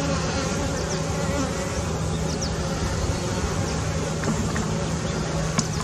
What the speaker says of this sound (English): Wonder who the first angry bee is that's gonna sting me.